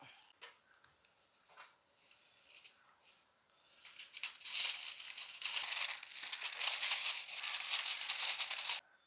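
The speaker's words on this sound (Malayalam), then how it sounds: "ഫോയിൽ പേപ്പറിൽ പൊതിയണം" Aluminium foil crinkles and rustles as it is folded around mushrooms for roasting, starting with soft scattered handling noises and then building into a steady, close, crackly wrapping from the middle onward.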